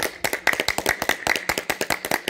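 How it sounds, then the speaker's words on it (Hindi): A yoga class claps hard in unison, a fast, loud, even run of sharp hand claps with no talk. "जोर से तालियां बजाएंगे ताकि एक्यूप्रेशर के सारे पॉइंट हो जाए।"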